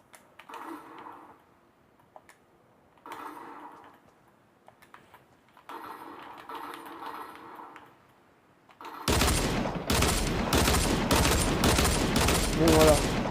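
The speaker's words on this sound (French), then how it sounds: "Vous avez vu la puissance de l'arme." Gunfire from a new weapon in the Fortnite video game: a loud, dense burst of rapid shots arrives near the end, after a quieter stretch of faint game sounds.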